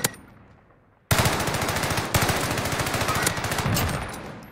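Mounted automatic weapon fire in Call of Duty Warzone, a loud, sustained rapid burst of evenly spaced shots after a brief quiet lead-in, continuing for several seconds before tapering slightly.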